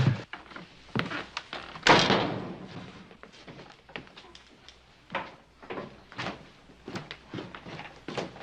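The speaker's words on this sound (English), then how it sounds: "Shut the door, will you?" A door in a room is shut with several knocks and thumps, one heavier thud standing out among the smaller impacts.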